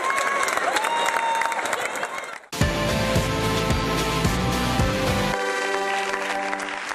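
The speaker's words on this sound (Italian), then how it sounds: "E gli applausi proseguono anche qui in studio." Applause rises in an Italian TV studio for the Zurich Barbato Cesport water polo club, a loud dense clapping wash that breaks off briefly near the middle and returns with music over it.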